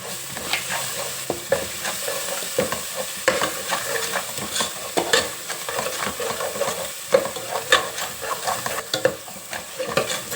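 Egg curry masala of chili powder, salt and coriander powder frying in a pan while a spoon stirs and scrapes through it in repeated strokes over a constant sizzle, close and without talk.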